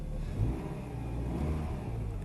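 A 1991 Mitsubishi Eclipse project car's engine is revved, a close, loud, steady drone that swells slightly in the middle, with no one speaking.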